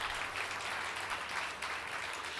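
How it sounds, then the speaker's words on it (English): Audience applause at an equity awards celebration, an even, continuous patter of many hands clapping, moderately quiet and heard from a distance, with no talking. "Let's give them a round of applause."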